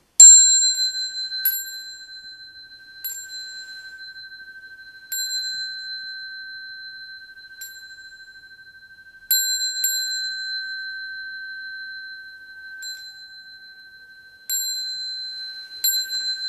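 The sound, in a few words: bell rung three times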